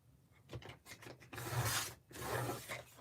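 Paper is trimmed by hand for a handmade card, making a soft, close scraping and rasping in short strokes and then longer continuous passes, quiet with no talking.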